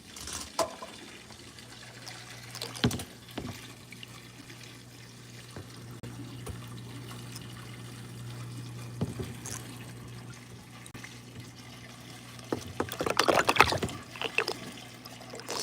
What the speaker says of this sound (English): Siphoning.